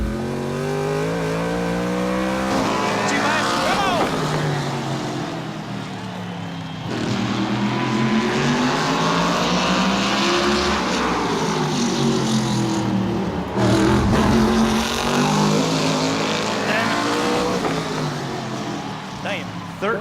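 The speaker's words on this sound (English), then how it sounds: "we built this brand new race car and we're getting ready to qualify it for the first time" A brand new race car on a qualifying run at Bowman Gray, its engine rising and falling in long revving sweeps as it laps, loud and continuous, with voices talking over it.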